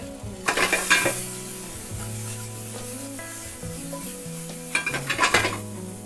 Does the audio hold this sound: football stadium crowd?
no